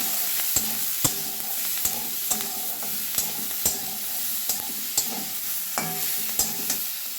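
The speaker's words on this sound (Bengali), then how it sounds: "সবজিগুলো তেলে একটু ভেজে নিয়েছি, নরম হয়ে এসছে।" Mixed vegetables with capsicum and a pinch of salt fry in oil, a steady sizzle broken by regular clicks and scrapes of a spatula stirring the pan, close and alone.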